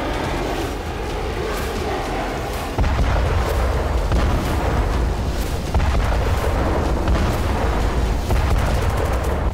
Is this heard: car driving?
no